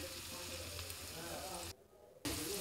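Food frying in a pan, a dense continuous sizzle and crackle heard close up, briefly dropping away for a moment before the hiss returns at full strength.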